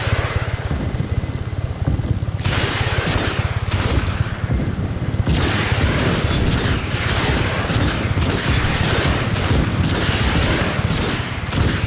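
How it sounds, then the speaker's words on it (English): Twin missile blasts and rumbling explosions in the open-world action game Just Cause 3, loud and sustained with repeated sharp bursts over a continuous roaring din. "Double missiles."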